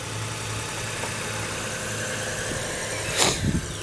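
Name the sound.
2006 Toyota Highlander hybrid engine starting and running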